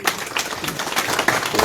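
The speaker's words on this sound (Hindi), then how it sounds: "जोरदार तालियों से" Audience applause welcoming guests at a political gathering, with loose, uneven clapping from a crowd and a few sharper individual claps.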